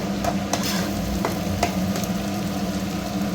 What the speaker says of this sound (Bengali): মাছগুলো সব দিয়ে দিয়েছি, এবার একটু ফুটুক